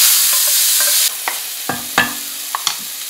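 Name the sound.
food sizzling in a hot pan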